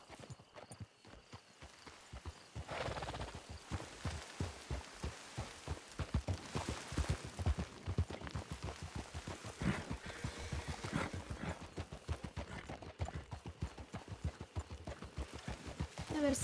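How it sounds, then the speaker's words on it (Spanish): Horse hooves clip-clop steadily in Red Dead Redemption II, a continuous quick rhythmic trot that grows a little louder as the horse approaches, with a voice talking over part of it. "¿dónde va ese caballo? ¿Viene?"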